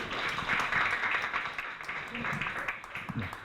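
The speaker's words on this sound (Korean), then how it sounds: "큰 박수로 환영 부탁드립니다" Audience applause welcoming a fintech startup CEO at a monthly KAIST startup lunch seminar, a steady roomful of clapping that holds for a few seconds, with voices mixed in.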